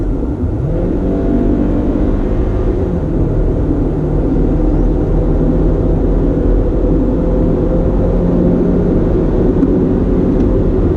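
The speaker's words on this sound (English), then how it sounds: "Let me go ahead and give you a little bit of an acceleration test here." Heard from the cabin, a 2019 Hyundai Tucson with a 2.4 engine and 6-speed automatic accelerates, a loud steady engine drone rising in pitch early on amid road roar.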